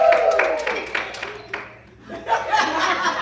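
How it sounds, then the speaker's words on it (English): A small group claps and cheers for Greg after he finishes a job, with scattered claps and laughter mixed with chatter, briefly dipping before picking up again, in a casual family setting. "Everybody clap for Greg, he finished it"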